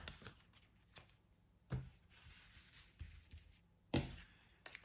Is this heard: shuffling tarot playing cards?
yes